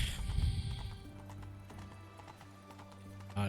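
Galloping hooves of the horse Roach in The Witcher 3 game: rapid rhythmic clip-clop that is fairly loud at the start, then continues more quietly over game music and ambience.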